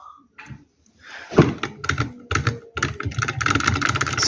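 A model Stirling engine running with a persistent mechanical rattle, a dense clattering of rapid close-up ticks that starts sparse and builds into a continuous loud chatter.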